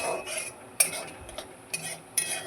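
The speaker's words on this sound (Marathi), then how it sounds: "छान असं भाजल्या जात आहे कांदा." Onion and peanuts roast in a pan. Several sharp clinks and scrapes of a utensil against the metal come over a faint background hiss, with no voices.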